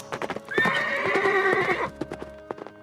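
Hooves clop rhythmically while a horse lets out a loud, long whinny, then the hoofbeats continue briefly.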